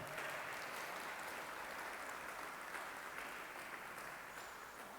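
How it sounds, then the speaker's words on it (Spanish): Church congregation applauding to welcome visitors, a faint, distant and steady wash of clapping that stays even throughout. "Vamos a recibirlos con un cariñoso aplauso."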